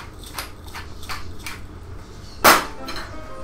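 Fresh salad with lemon juice, salt and pepper being tossed in a bowl: soft, repeated scraping and clinking of a utensil against the bowl at an even pace, close up, with one sharper knock partway through.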